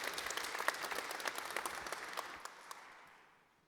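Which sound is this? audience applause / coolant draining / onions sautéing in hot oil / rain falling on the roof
audience applause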